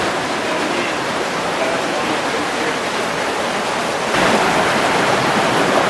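Water rushing and splashing over boulders in Scotty Creek near a slot canyon and waterfall, a loud, steady broadband roar that swells slightly near the end.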